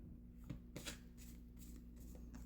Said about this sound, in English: Okay, let's shuffle them.